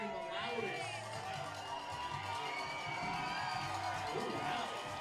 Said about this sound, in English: if I had to guess which section is cheering the loudest